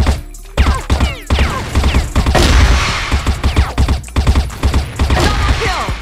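Rapid bursts of M4 rifle fire in a video game crack out loud and close, mixed with clattering impacts and mechanical clicks, shots coming in uneven volleys throughout.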